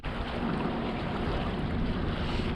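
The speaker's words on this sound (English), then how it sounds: "that's why it's so windy" Strong wind buffeting a microphone outdoors on a fishing boat on a lake after a cold front, a steady loud roar with faint water noise and no talking.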